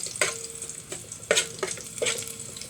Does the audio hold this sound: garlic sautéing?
yes